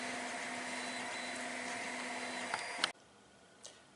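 A 3D printer prints plotter support parts, a caster wheel with its bracket and a pen holder. Its motors give a steady, close whir with faint ticks, then stop abruptly near the end, leaving a quiet room.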